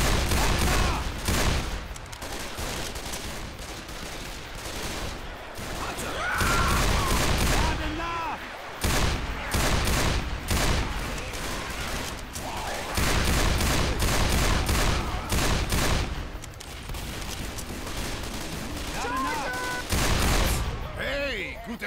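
Rapid gunfire from the Left 4 Dead 2 video game, dense bursts and sustained automatic fire with reload clicks, loud and nearly continuous through the whole stretch.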